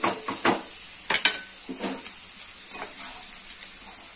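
Mixed vegetables fry in hot oil for an Odia-style curry, with a soft sizzle under several clanking stirs of a utensil against the pan that thin out toward the end.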